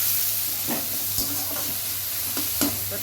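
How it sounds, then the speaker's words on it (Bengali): Chopped tomato frying in oil in a pan with garlic, onion and cumin, giving a steady close sizzle broken by several sharp stirring scrapes of a spatula. "ভাজা ভাজা হয়ে গেছে দিচ্ছি একটু টমেটো"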